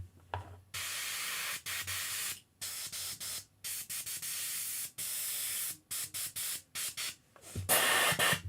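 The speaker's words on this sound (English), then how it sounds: "my airbrush is not working its best at the moment" An airbrush sprays thinned paint in short, stuttering hissy bursts with frequent breaks, while the tool is not working at its best. The hiss is close and steady within each burst, and a louder burst comes at the end.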